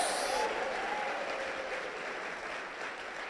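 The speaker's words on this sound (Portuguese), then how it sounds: "Você pode aplaudir e dar um grito de glória a Deus" A congregation applauds during a church sermon, a dense and steady wash of clapping that is fairly loud at first and then holds at an even level throughout.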